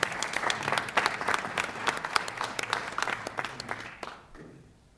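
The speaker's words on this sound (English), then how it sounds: "let's please give a round of applause for Luke Anderson" School board meeting audience applauds a student athlete's recognition: dense, lively clapping at moderate distance that thins and fades out over the final second.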